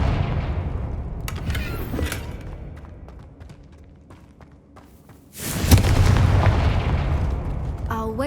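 A Confringo fire spell in the Hogwarts Legacy video game bursts with a loud, sustained blast about two-thirds through, following quieter rumbling ambience and scattered game sounds.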